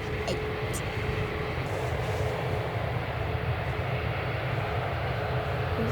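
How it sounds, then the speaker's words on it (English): A Boeing 737-8 airliner rumbles steadily at Manchester Airport, its engine drone continuous and moderately distant with a faint tonal hum running through it. "It is a Boeing 737-8"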